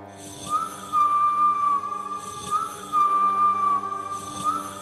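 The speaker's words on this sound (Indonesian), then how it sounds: "suara siulan itu terdengar lagi" A thin, eerie whistle holds a long wavering tone at 2 a.m., fades, then returns twice more over a low hum and faint hiss.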